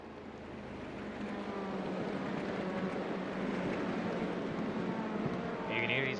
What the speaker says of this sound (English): You can hear these cars roar.